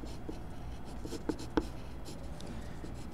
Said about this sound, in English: We would consider this blending with the colored pencil when you're working in layers.